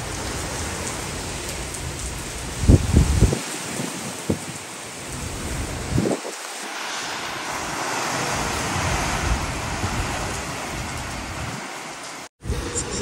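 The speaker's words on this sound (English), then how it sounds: "Wind is so strong." Heavy rain and strong wind during Hurricane Fiona in Turks and Caicos, a steady loud roar of downpour with a few sharp gusts or thunder-like thumps, a brief cutout near the end.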